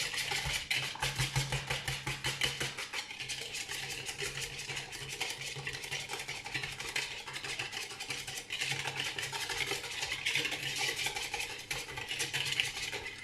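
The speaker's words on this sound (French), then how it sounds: "Donc là, je remélange bien." Steady scraping and swishing as a utensil stirs a lemon curd mixture of sugar, cornstarch, eggs and lemon juice in a Tupperware pitcher, continuous and close for the whole stretch with no talk.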